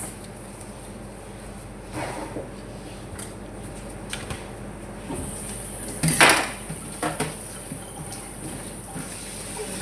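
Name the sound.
washing saluyot (molokhia) leaves for adobo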